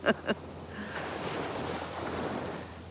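Gentle waves wash softly against a South Florida beach in a continuous low hiss of surf and wind, after two brief knocks at the start.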